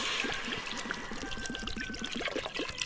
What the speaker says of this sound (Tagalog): O lagyan na natin ng tubig.